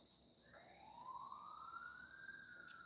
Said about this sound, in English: This freaking ambulance is outside. Do you guys hear that?